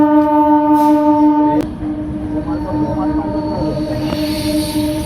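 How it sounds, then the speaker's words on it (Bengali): A train arriving at a closed railway level crossing, a loud sustained horn blast that cuts off, then rumbling wheels and rail clatter close by. "রেলগেট পড়ে গেছে, ট্রেন আসবে তারপরে ছাড়বে। এই যে এসে গেছে ট্রেন"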